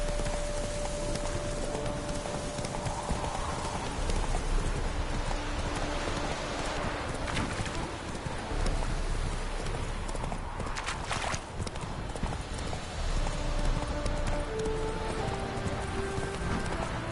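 Horse hooves in Witcher 3 on PS4 beat a steady, continuous galloping clip-clop with a rain-like wash behind, carrying on loudly throughout.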